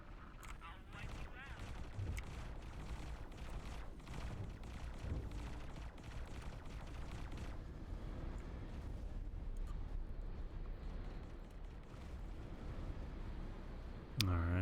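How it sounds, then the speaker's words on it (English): Faint, continuous rumbling explosions from a bombing run in the space game X4: Foundations roll on steadily with scattered impacts and a sharper hit near the end, mixed with low speech. "Yep, that bombing run worked."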